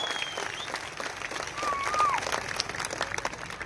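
A large crowd at a political rally in Jat, Maharashtra, claps loudly and steadily throughout, a dense sustained wash of applause held at an even level from start to finish.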